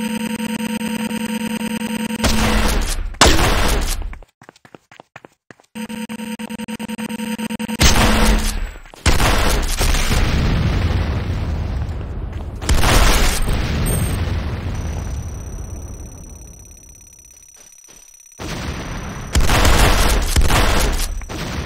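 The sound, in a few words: gunfire and explosions attacking weapons factory in video game Renegade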